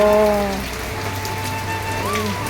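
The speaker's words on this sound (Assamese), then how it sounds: "পাহাৰতোতো বৰষুণ বহুত হৈ আছে" Steady heavy rain falls in the hills in a continuous wash of noise, with a low hum and a faint tonal whine running underneath.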